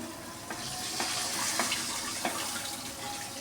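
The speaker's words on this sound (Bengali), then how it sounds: "এখন আমি জল দিয়ে দিব" Water poured into a pan of cooked-down spiced curry masala, a fairly quiet steady hissing splash with faint sizzling throughout, with no talk.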